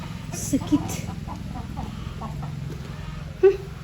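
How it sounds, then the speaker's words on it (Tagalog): Chickens on a farm making a few soft clucks over a murmur of background voices, with a louder cluck near the end. "Kahit saan may manok."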